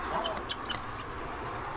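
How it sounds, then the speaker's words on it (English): Barred Rock chickens squawk and chatter in short bursts against a steady, noisy outdoor background in winter in New Zealand. "But these barred rock chickens are definitely not all well behaved."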